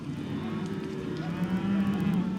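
Cattle low and moo on a Queensland cattle station, a few drawn-out bovine calls fairly close by, the last one strongest, with no speech.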